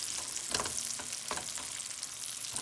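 Organic Salisbury steak patties brown in a pan, a steady close sizzle with a few brief scrapes and shifts, alone without talk.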